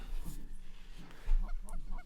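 Specklebelly geese honk during a waterfowl hunt, a few faint, distant calls at first, then a quick run of repeated, higher-pitched yelping honks near the end over a soft background hiss.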